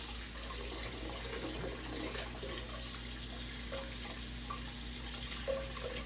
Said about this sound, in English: Rinse this out. Get it washed because we're going to have it for our icing.